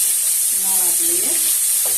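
Spices sizzle steadily in a curry pan for papaya chicken curry, with cumin paste, turmeric and chili paste frying under a bright hiss while someone hums or speaks faintly in the middle.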